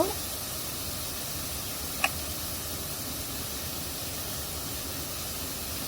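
Ginger-garlic paste and spices sizzle in a pan while dal cooks, a steady soft hiss that continues for several seconds, with one brief sharp click near the start.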